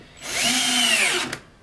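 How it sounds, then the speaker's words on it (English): A cordless power drill drives a screw into a Schluter preform shower base, a single close, loud whirring run that rises, holds, then stops with a brief click. "I'll take some screws and just screw this in."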